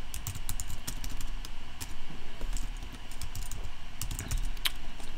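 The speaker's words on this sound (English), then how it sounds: "And let's type in" Rapid keystrokes clatter on a computer keyboard as a title is entered, a close, busy run of clicks with brief pauses and no speech.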